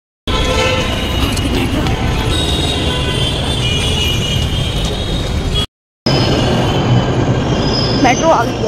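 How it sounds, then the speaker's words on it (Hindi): A metro train pulls into a station with a loud, sustained roar of rolling wheels and carriages, high squeals rising as it brakes, a brief gap, then continued rumble and a short toot near the end. "मेट्रो आ गई है"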